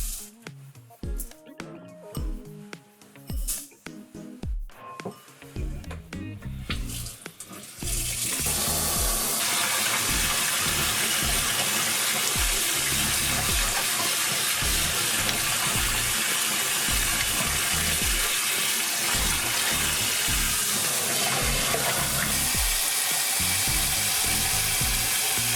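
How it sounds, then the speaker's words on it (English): Rice for osekihan (Japanese red bean rice) is rinsed under a running kitchen tap. After a short, quieter opening, a steady, loud, continuous rush of water fills the rest of the clip. "First we wash rice."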